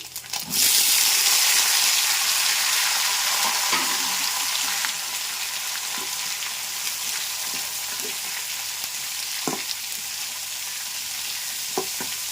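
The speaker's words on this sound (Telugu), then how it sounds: "ఉల్లిపాయ ముక్కలు చక్కగా దోరగా వేగిపోయినాయి కదా." Onion pieces frying in a pan for a dried-fish curry: a loud, continuous sizzle begins abruptly and settles into a steady hiss, with occasional stirring clinks and no talk.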